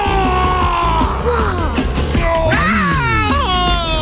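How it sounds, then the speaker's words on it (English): Electronic stretch screamer Halloween toys wail and shriek in loud, continuous pitch-sliding screams with rising and falling tones, set against a busy store backdrop at a hardware retailer's Halloween display. "Electronic stretch screamers. They scream when you stretch them and come back for more."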